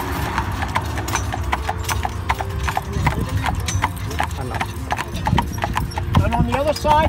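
Horse hooves clip-clop steadily as the animal pulls an Amish buggy through Amish country, a close, continuous rhythmic clatter with wheel rumble underneath and a person talking over it.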